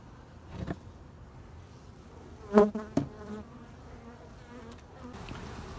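Angry honey bees at a hive during a honey harvest, a faint steady hum with a couple of sharp, louder buzzing passes as individual bees fly close by.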